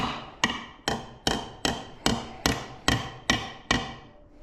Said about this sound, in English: And maybe a slight tap of the hammer